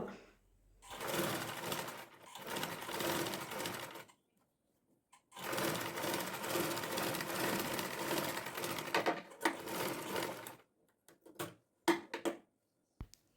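Sewing machine stitching a boat neckline on a garment, running in two long loud bursts separated by a pause, then short stops and starts near the end.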